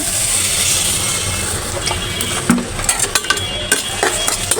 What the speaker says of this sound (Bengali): এখন পেঁয়াজটা লাল লাল করে বেজে নিব